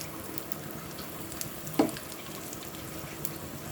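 Asafoetida and tempering spices with curry leaves sizzle faintly in hot oil as a sambar seasoning is prepared, a soft, even crackle with one brief clatter midway.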